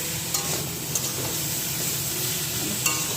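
Raw papaya frying with spices sizzles steadily in a pan, with a few sharp stirring scrapes against the metal throughout; no one speaks.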